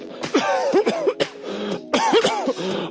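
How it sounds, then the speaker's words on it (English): A boy gives several deliberate, forced coughs and throat-clearing hacks in quick bursts, close and fairly loud, with a short pause between groups. "he suddenly fakes a cough"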